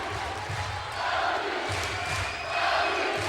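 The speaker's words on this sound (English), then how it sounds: "the LU chant starts to go from the crowd here at Alumni Gym" A volleyball crowd at Alumni Gym during a Loyola versus Ohio State NCAA men's match chants LU in a steady rhythmic roar, a dense, continuous, loud wall of voices swelling in pulses.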